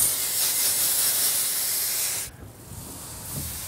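Loud, close hose spray hissing over a tub of oysters being rinsed on an oyster farm boat, cutting off abruptly partway through and leaving quieter ambient noise.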